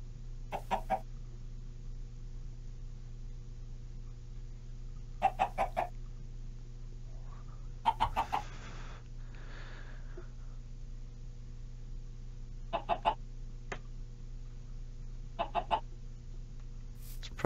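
Chickens clucking in Minecraft, with short bursts of clucks repeating every few seconds over a quiet, steady background hum.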